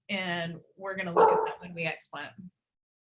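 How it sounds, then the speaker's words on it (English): Dogs bark and yip in the background of an indoor space while a person keeps talking over them, the barks blending into and partly masked by the speech. "Sorry about the dogs in the background."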